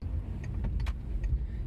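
A car pulls away on a test drive, its low engine rumble steady and close with a few faint clicks and rattles above it.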